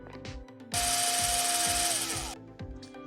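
A small screw is backed out of a PS5 controller with a powered driver: a steady, close, high whirring buzz of about a second and a half, starting and stopping abruptly over soft background music.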